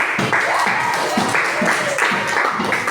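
A class applauding: a short, steady patter of clapping, mixed with voices talking over it.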